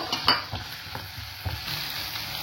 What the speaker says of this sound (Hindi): अब मैं डालती हूँ प्याज, तो मैं करती हूँ फ्राई थोड़ा सा।